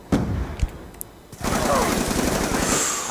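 Gunfire in the Black Ops 2 shooter game: a few scattered shots early on, then a dense, sustained burst of automatic fire filling the back half at close range.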